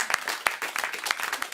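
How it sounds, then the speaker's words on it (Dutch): Short burst of audience applause at a children's theatre show in the Netherlands, dense uneven clapping at close range with a few sharper claps standing out, brief and without talk. "dan nog een applaus voor hoofdletter 3"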